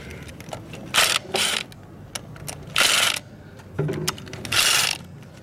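Wrench work loosening bolts on the transmission of a 170 Italika GS motorcycle with damaged bearings: sharp metallic ratcheting bursts in four or five separate spurts, close and fairly loud, with quieter tool clicks and handling noises in between.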